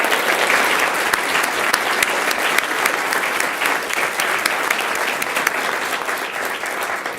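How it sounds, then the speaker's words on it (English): Loud, sustained applause from a large crowd at a school governing board meeting, dense clapping filling the whole stretch without a break. "Let's give her a huge round of applause."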